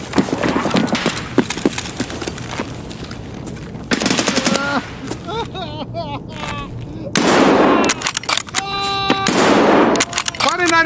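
Video game gunshots fire in several sharp bursts of rapid shots separated by pauses, loud and close, with someone talking between and over them.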